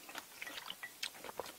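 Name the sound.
chewing vegetables while eating jajangmyeon, mukbang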